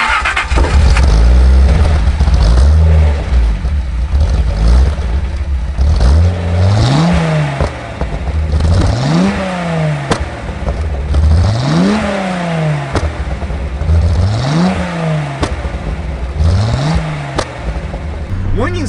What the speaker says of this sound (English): the sound coming out of the exhaust is really quiet.